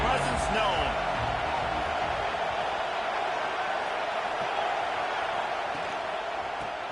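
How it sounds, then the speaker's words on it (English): A stadium crowd in the College Football 26 video game, at an Alabama versus Clemson matchup, roars in a continuous broad wash of noise that holds steady throughout and fades slightly at the end. "Listen to this crowd just shaking the girders of this place trying to help their defense."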